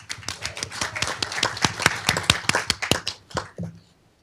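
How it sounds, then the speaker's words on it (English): Applause fills a city council meeting in Downey: a modest crowd claps steadily for a few seconds, with distinct individual hand claps, then trails off to a few last claps. "Let's give her a round of applause."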